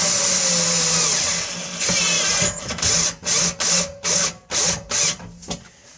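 A power drill drives a screw through a metal heat shield into drywall, running steadily at first, then a series of short, close bursts of whirring as the screw seats, with no talking.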